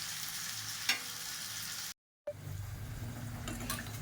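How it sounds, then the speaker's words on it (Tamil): Steady close sizzling of fish frying in a pan for fish curry, briefly cut to silence midway, then the hissing and crackling resume with faint clatter. "மீன் திருப்பி போட்டுக்கலாம், திரும்பி மூடி வச்சுக்கலாம். நல்லா வறுக்கலாம்"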